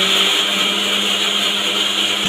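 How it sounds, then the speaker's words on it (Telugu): A mixer grinder purees chopped tomato pieces in its jar, a loud, steady whirring drone that runs unbroken throughout, close up and with no talking. "ఇప్పుడు ముందుగా కట్ చేసి పెట్టుకున్న ఇంకా టమాటో ముక్కలు అయితే మిక్సీ జార్లో అయితే వేసుకుంటున్నానండి"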